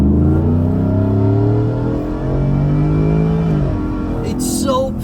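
Whipple-supercharged V8 in a Ford F-150 Lariat crew cab pickup revs with a loud, continuous engine drone that climbs and holds steady pitch, heard close up from inside the cab, with a brief higher whine near the end.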